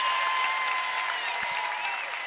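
Basketball arena crowd cheering and applauding a junior's made three-pointer, her first of the season, at a Tennessee State vs Louisville game; a steady, loud wash of applause and cheers that holds evenly for a couple of seconds.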